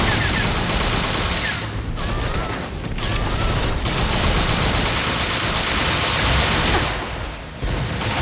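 Dense, continuous gunfire fills a battle in the PS Vita game Bullet Girls 2, with rapid automatic shots and loud bursts layered into a constant roar of combat noise.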